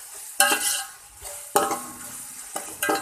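Tomatoes fry with masala in a pan, stirred in a few separate strokes, each bringing a scraping rush of sizzle and utensil clatter before fading to a quieter simmer.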